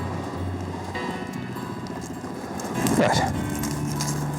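A horse in severe pain jogs reluctantly, its hooves clip-clopping in a few uneven steps on a hard surface, with a voice speaking over the hoofbeats.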